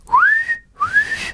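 Two short rising whistles from a person, each sliding upward and then holding briefly, clear and close with a pause between them.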